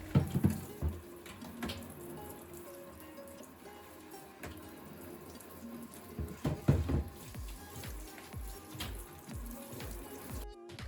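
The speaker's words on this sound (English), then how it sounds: "rinse them under running water and wipe them dry" Running tap water splashing steadily as plastic fridge drawers are rinsed, with occasional knocks and clunks of plastic against the sink.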